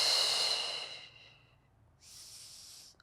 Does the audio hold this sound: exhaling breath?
yes